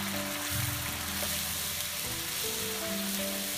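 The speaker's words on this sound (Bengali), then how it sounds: "সব মশলা এক একটু ভালোভাবে মিক্স করে আমাকে একটু সময় নিয়ে কষাতে হবে।" Garlic paste, turmeric, chili and cumin frying together in a pan: a constant close sizzle with soft bubbling and a light stir, steady and fairly loud, without talking.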